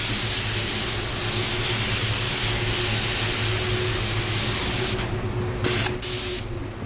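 A spray gun at 18 PSI laying a control coat of silver paint on a BMW hood, a steady close hissing blast that stops, then gives two short hissing bursts.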